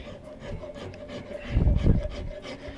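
A rasp files the wooden stock of a classic sporter gunstock for a 1903 Springfield rifle near the metal receiver. Short, close rough strokes come one after another, and they grow louder and heavier toward the middle.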